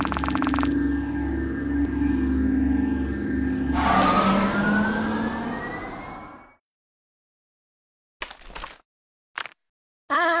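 An ambulance siren wails inside the video game Kick The Buddy, rising and sweeping for several seconds before cutting to silence, then returns in short clipped bursts.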